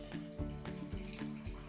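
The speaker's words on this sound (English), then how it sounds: "I'm going to cover them with at least 2 inches of water" Tap water runs steadily into a pot of rinsed dried chickpeas, giving a continuous splashing gush with a rhythmic pulsing, close and moderately loud.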